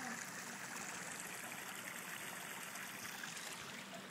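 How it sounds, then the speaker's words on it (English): A babbling brook in Arizona trickles and flows steadily, a soft continuous wash of water with no voices over it. "this is the babbling brook"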